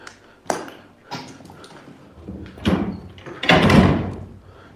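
A door swinging and banging, several sharp knocks and thuds spaced apart and growing louder and longer toward the end, close and without talk.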